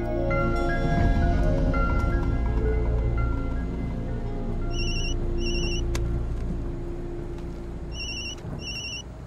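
A telephone rings in two short bursts of electronic trills, repeating after a pause, over a steady bed of louder background music.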